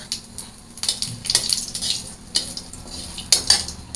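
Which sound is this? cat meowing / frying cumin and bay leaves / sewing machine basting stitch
frying cumin and bay leaves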